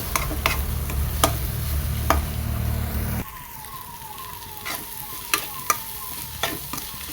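Ivy gourd stir-fry with egg being stirred in a pan, scraping clicks over a steady sizzle that drops quieter partway through, with a few sharp utensil taps.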